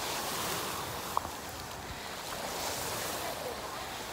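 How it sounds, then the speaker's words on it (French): Calm Mediterranean sea at L'Estartit beach in Catalonia, Spain, with a steady soft wash of gentle waves and light wind noise, heard up close and alone. "Ici c'est calme, hein, c'est une mer d'huile"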